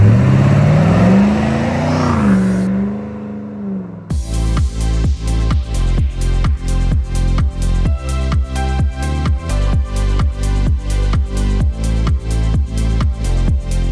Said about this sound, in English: This 110 crew cab is powered by a GM LT1 450 horsepower V8 engine